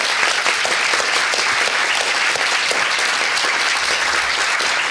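Sustained, steady applause from an audience at a Science Gallery event, dense and even for the full stretch without letup.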